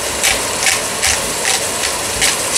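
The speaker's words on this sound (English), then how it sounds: "I'm going to salt it with Himalayan salt, Himalayan pink salt. So this is the salt grinder." Hand salt grinder cranking Himalayan pink salt, a close gritty crunching in five or six short rhythmic bursts.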